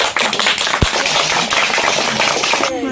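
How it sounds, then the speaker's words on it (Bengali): An audience at a game-show episode claps loudly for a contestant, producing a dense, continuous patter of many hands that stays close and even for about three seconds. "সবাই নমিতা দির জন্য জোরে হাততালি দেবে"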